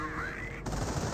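A .30 cal machine gun emplacement firing in Company of Heroes, a short burst that cuts off abruptly partway through and gives way to dense battle noise.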